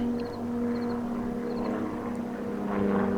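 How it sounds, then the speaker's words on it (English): Low-flying propeller airplane passing over Alabama woods during a deer hunt, a steady droning engine hum that stays moderately loud throughout, with a few faint bird chirps and no talk. "There's an airplane flying over, and I guess the plane got a little bit too low"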